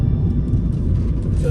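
A 2008 Kia Ceed LS estate rolls over road bumps, heard from inside as a deep, continuous rumble of tyres and suspension with a voice talking over it.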